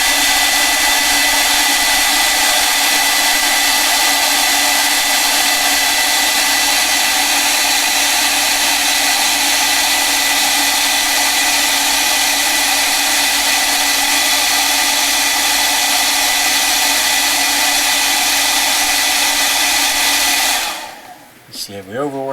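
A hair dryer drying acrylic paint on a painted miniature viper roars loud and steady for about twenty seconds, then switches off abruptly near the end.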